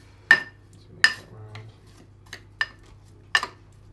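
A spoon clinks and scrapes against a bowl while stirring a protein cheesecake base softened with boiling water, several sharp taps spaced about a second apart with quiet scraping between.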